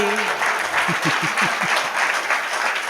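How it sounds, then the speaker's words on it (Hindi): Steady crowd applause from the audience at a Hindi kavi sammelan poetry recital, dense and continuous throughout with a few voices faintly heard underneath. "अच्छे से बजाओ ताली"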